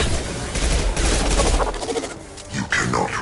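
Gunfire in the Mass Effect 2 Legendary Edition video game, dense rapid shots and bursts from a combat firefight, loud and continuous with voices shouting through it.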